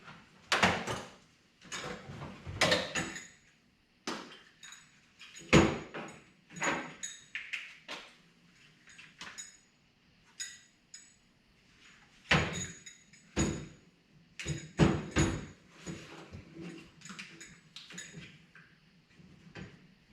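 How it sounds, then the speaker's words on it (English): Plastic case of a box wrench set being pried and fumbled open during work on a 1968 Chrysler Newport radiator, giving irregular clicks, clacks and knocks, close and moderately loud, with no talking. "Can't get the doggone wrenches open."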